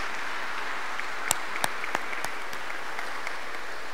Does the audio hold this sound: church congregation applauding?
yes